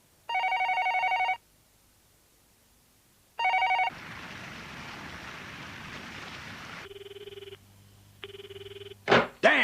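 A telephone rings unanswered in two loud electronic trilling bursts separated by silence, followed by a stretch of hissing static, a few lower repeated tones and sudden sharp noises at the end.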